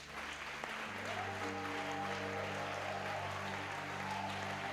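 A church congregation applauds in a steady, dense wash of clapping that holds evenly throughout, with organ or keyboard tones sustained underneath.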